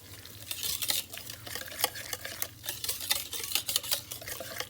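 Crushed pineapple is stirred together with cream of coconut in a bowl: a steady run of wet, squelching stirs and light scrapes, close up and uninterrupted, with no talking.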